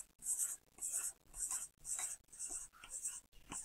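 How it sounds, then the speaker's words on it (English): Circles drawn on paper in a quiet room, a repeated soft scratchy pen or pencil stroke sounding in a steady rhythm of about seven close, distinct sweeps. "I'm just going to draw circles."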